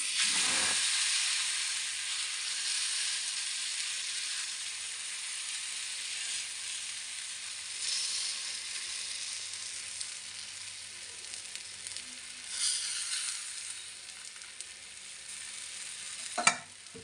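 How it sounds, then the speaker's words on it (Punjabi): Wheat flour and gram flour chilla batter sizzles loudly and continuously on a hot griddle, a bright steady hiss that swells at moments, with a sharp scrape near the end. "ਆਟਾ ਤੇ ਬੇਸਣ ਦਾ ਆਪਾਂ ਘੋਲ ਬਣਾਇਆ ਸੀ ਉਹਨੂੰ ਤਵੇ ਦੇ ਉੱਪਰ ਪਾ ਦਿੰਨੇ ਆ"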